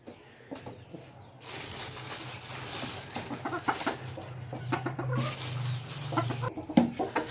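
Hens clucking close by on a rooftop while being fed, short repeated clucks in irregular bursts with one louder squawk near the end.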